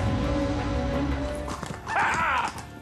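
A horse neighs loudly near the end, a wavering whinny over a steady noisy background with faint hoof clatter before it.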